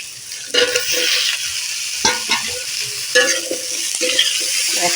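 Chopped banana stem and potatoes with onion are stirred and fried in a pan, giving a continuous sizzle broken by repeated close scraping strokes of the spoon.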